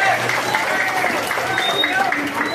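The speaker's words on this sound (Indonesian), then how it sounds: "Berikan tepuk tangan untuk para panitia di Kampung Gadu-Gadu" Audience applause for event organizers at an Isra Mi'raj commemoration gathering in a Sundanese village, steady dense clapping throughout with some crowd murmur and voices mixed in.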